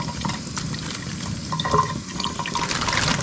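Water runs from a valve into a bag on a fishing boat, making a continuous close splashing, filling trickle with no talk.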